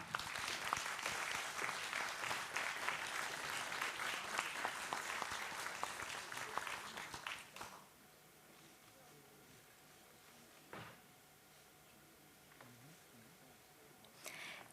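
Applause from an audience at the Marka Tatrzańska award ceremony in Tatra County, a dense steady roar of clapping for about seven seconds that then cuts off, leaving quiet room tone with a few faint stray claps.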